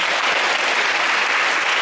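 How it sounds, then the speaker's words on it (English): Schoolchildren at a Sanskrit Day school event clap together in a loud, dense, continuous burst of applause that carries evenly through the short moment. "For this, I like to give one more round of big applause."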